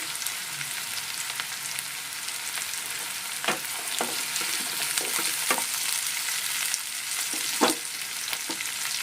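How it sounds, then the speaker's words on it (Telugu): Curry leaves dropped into onion and green chilli frying in oil for a brinjal curry, giving a steady close sizzle with a few sharper crackles and spatula scrapes scattered through it. "ఉల్లిపాయ పచ్చిమిర్చి వేసానండి ఇప్పుడు దీంట్లో కరివేపాకు వేస్తున్నాను"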